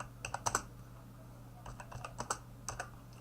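Someone types on a computer keyboard, with quiet clusters of quick keystrokes separated by short pauses over a low steady hum.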